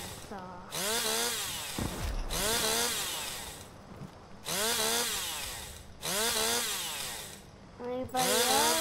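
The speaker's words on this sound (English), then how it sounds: "So, here we have the chainsaw." A chainsaw melee weapon in Call of Duty: Black Ops III revs in repeated loud bursts with rising and falling whines, broken by short pauses and a low thump, with voices chattering faintly underneath.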